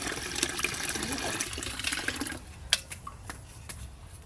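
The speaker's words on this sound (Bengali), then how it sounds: "দুধটা ছেঁকে কোড়াতে দিয়ে দেবো এবার।" Four kilograms of milk strained and poured into a large wok-like pan for making chhena, a continuous rushing pour that stops partway, followed by a few faint clinks and drips.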